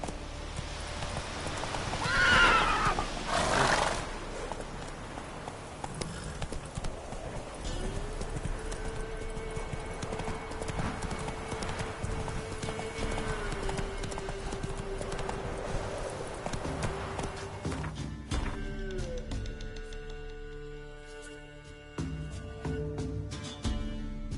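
Roach, Geralt's horse in The Witcher 3, gallops with rapid rhythmic hoofbeats and whinnies early on, while game music and ambient sound run underneath.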